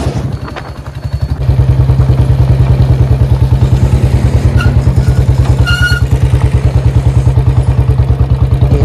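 A Royal Enfield Bullet 350 BS6 motorcycle is ridden with its engine close and loud, producing a steady, rapid single-cylinder thump that settles into an even, pounding rhythm after a brief dip at the start.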